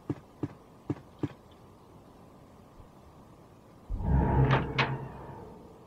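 A door opening in Resident Evil: several faint, evenly spaced clicks or footsteps, a pause, then a louder creaking, rumbling swing of the door with a couple of sharp knocks, all over a low background hiss.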